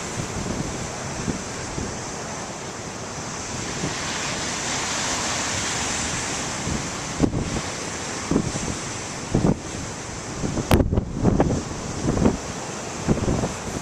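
Ocean waves break and wash along a shore in a continuous loud roar, with wind buffeting the microphone and a few heavier surges standing out near the end.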